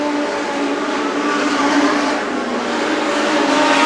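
Legend race cars roar around an oval track in a steady, dense pack, engines droning loud and continuous with a slight swell toward the end; no talk.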